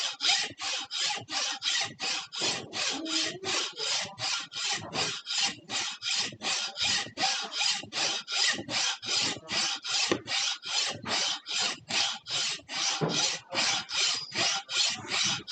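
A hand saw cuts through a coil of wire clamped tightly in a vise at an armor-smithing workshop. About thirty steady, evenly spaced rasping strokes follow one another, loud and close, with no speech.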